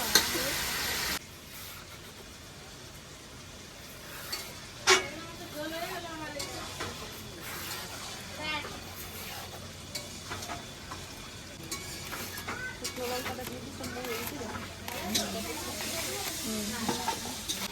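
Tangra fish curry gravy is cooking in a pan. It gives a quiet, steady bubbling sizzle with occasional scrapes and clinks of a utensil and a few bumps, and low voices come and go in the background.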